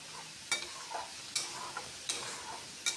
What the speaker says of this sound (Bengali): কাশ্মীরি লাল লঙ্কার গুঁড়াটা দিয়েও আরও কিছুক্ষণ কষিয়ে নিচ্ছি, যাতে মশলা থেকে তেল ছেড়ে আসে।